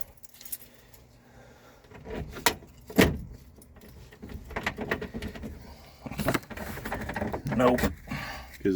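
Keys jangling and clicking as several are tried one after another in the ignition lock of a 1966 Dodge Dart, close up, in short bursts with pauses, while a voice talks between attempts.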